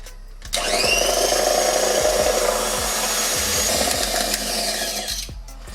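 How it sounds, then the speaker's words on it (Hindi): Electric hand mixer beating eggs for tea cake batter, a steady close motor whir lasting about five seconds, with light rhythmic tapping of the beaters against the bowl. "अब इसके अंदर हम दूसरा अंडा डालेंगे, फिर से इसे 2 मिनट के लिए बीट करेंगे।"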